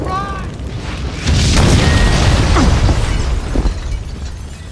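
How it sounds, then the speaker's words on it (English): A building exploding in Max Payne 2: a sudden loud low boom that swells into a long rumbling roar with scattered debris crashes, close and dominant, following a brief moment of voices. "The building's blowing up."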